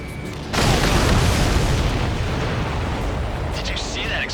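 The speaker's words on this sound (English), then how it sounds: "Did you see that explosion?" A heavy, booming explosion in the game Ace Combat 7 erupts suddenly and rumbles on loudly, with a few faint electronic chirps near the end.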